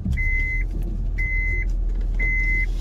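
A car idles with a steady low engine hum as it prepares to drive off, while a chime beeps three times at an even pace over the engine; no one speaks.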